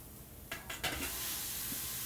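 Ground meat drops into a pan of golden-brown onions, setting off a loud, steady, close sizzle with a few stirring scrapes at the start.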